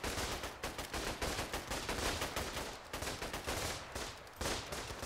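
Sustained gunfire in the trench-warfare video game Running in the Trenches, with rapid machine-gun bursts and overlapping rifle shots crackling continuously and densely, no voices over it.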